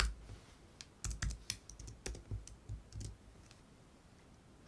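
Keys clatter on a computer keyboard at an LGP-30 simulator, a quiet, close run of irregular clicks and taps in short bursts that trail off into silence.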